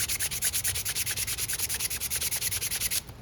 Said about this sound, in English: it's going to be a little bit harder to sand this down